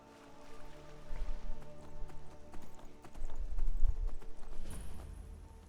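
Horse hooves clip-clop in the Skyrim video game, a run of uneven thudding steps that speeds up and grows louder, with a brief whinny near the end.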